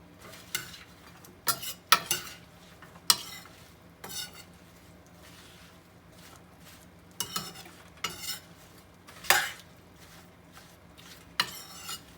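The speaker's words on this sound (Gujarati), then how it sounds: "હવે આ બધું શાક વઘારી દીધું છે મેં ઘી મૂક્યું જીરું હિંગ હળદર મૂકીને વઘારી દીધું છે" Pointed gourd cooking in ghee with cumin, asafoetida and turmeric, with a spoon stirring in the pan: scattered scraping clinks and soft rubbing strokes at irregular intervals over a faint background, no talking.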